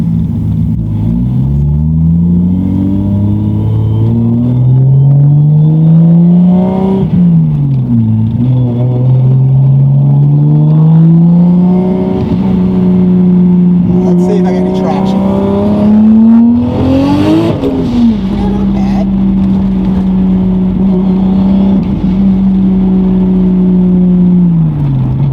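A single turbo Toyota Supra drives through traffic at part throttle, its engine note droning loud and close and climbing through gears with brief dips between shifts and a turbo whir above.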